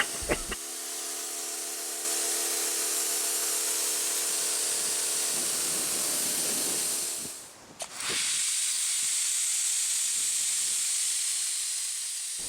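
A Vevor 16-inch undercarriage cleaner sprays water in a loud, steady broadband hiss that runs for several seconds, cuts out briefly, then resumes, with a faint motor hum underneath.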